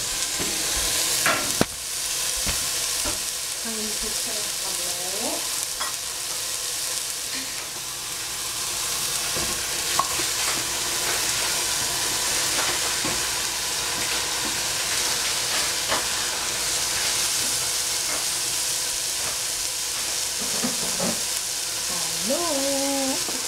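Vegetables for sweet and sour stir-fry in a pan, giving a continuous loud hiss and sizzle with occasional sharp clanks from a utensil and faint squeaky sounds now and then.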